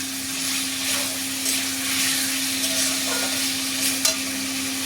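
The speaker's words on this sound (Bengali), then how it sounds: "এবার বেশ সুন্দর করে কষাতে থাকবে।" Potatoes sautéed and stirred in a pan, a continuous close sizzle with soft repeated scraping strokes of a utensil and a faint steady hum underneath, ending with a small clack.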